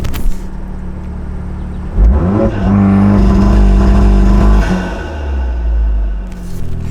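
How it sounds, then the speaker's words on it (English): A Volkswagen Mk7 Golf R engine revs hard on launch control and holds around 3,000 RPM with a rough, popping exhaust burble, then drops back to idle; loud and close. "we'll do some launch control noise. 3K RPMs though."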